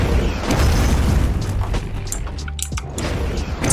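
In the video game The Strongest Battlegrounds, a Gojo projectile blast tears through a destructible map, giving a loud booming rumble with crackling debris bursts and scattered impacts.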